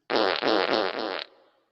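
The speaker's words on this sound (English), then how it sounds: "Does the fart sound good?" A comedic fart sound effect plays alone: one loud, raspy blast lasting just over a second, with about four pulsing bumps before it trails off quickly into silence.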